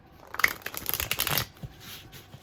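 Angel Wisdom tarot cards shuffled in reverse by hand, a steady run of close riffling and flicking that thins out toward the end, quiet and without voices.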